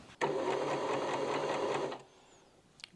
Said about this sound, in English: If I start sewing again,